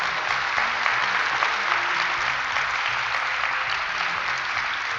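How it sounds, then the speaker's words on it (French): A crowd applauds at a federal funding announcement in Montreal, a dense, even wash of many hands clapping that holds steady throughout at moderate loudness. "on peut applaudir."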